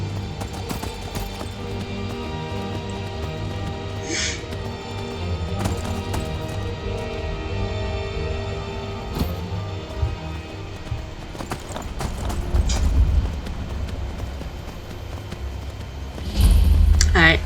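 Horse hooves gallop in a rhythmic, steady clip-clop in a video game set in a snowy region, with occasional louder thuds and background game ambience, with no talking.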